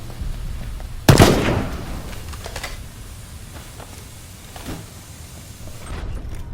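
A grenade blast in the video game Left Alive goes off as one loud, close burst, then tails away into quieter rumbling and scattered clatter with no talking.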